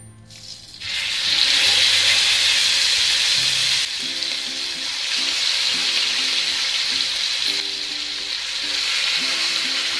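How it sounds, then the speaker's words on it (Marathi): Marinated tandoori chicken pieces fry in butter in a pan over a high gas flame, hissing and sizzling loudly and steadily at close range after a brief quiet start. "आता आपण मॅरिनेट केलेले जे चिकन तंदुरीचे पीस आहेत ते एक एक करून याच्यामध्ये टाकणार आहोत"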